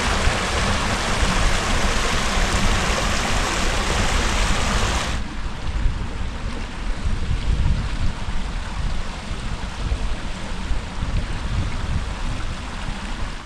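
Cold stream water rushes through a Cumbrian valley in a constant broadband hiss and gurgle, loud and close at first, then softer and duller after a sudden shift partway through.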